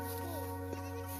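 A flock of village sheep bleats in a short, close, wavering cry that holds over a steady low background hum.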